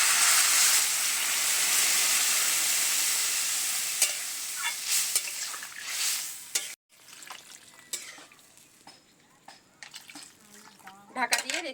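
Catla fish curry masala with green chillies being stir-fried in a pan, a strong steady sizzle at first that fades, then scattered scraping stirs and clinks, with a voice speaking briefly.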